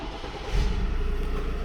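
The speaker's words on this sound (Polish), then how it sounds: "Uruchamiamy samochód, tak jak teraz." A Ford 2.0 EcoBlue car engine, remapped from 150 to 180 horsepower, fires up with a low rumble that swells about halfway through and then settles into a steady, close idle.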